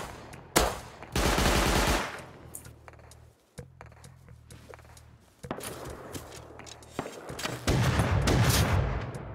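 Heavy automatic gunfire in the survival game Rust, sustained loud bursts with brief gaps, close and harsh across the whole stretch.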